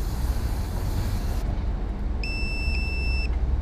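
An EEZTIRE T515 TPMS tool reading a tire sensor gives two short, clear electronic beeps in quick succession near the end, over steady background noise.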